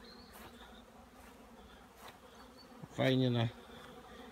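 Honeybees fly around apiary hives on a fine spring day, a steady close buzzing hum with one insect passing loud and near for a moment; someone speaks briefly.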